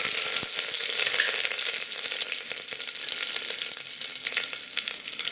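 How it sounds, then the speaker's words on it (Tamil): Mustard seeds, urad dal and curry leaves sizzle and crackle in hot oil for a South Indian tempering, a loud, dense, steady hiss close by with scattered pops throughout. "நம்ம இப்போ தாளிச்சிக்கலாம் அதனால எண்ணெய் கடுகு ஆட் பண்ணிக்கலாம் கொஞ்சமாக உளுத்தம் பருப்பு கருவேப்பிலை"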